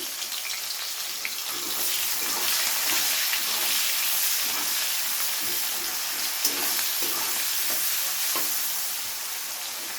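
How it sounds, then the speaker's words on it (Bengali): Chopped onion fries in hot oil in a wok (kadai) for a cauliflower, bean and potato curry, a steady, loud and dense sizzle that carries on unbroken with light stirring. "কড়াইয়ের তেল গরম হয়ে গেছে এবার এই তেলের মধ্যে দিয়ে দিচ্ছি পেঁয়াজ কুচি"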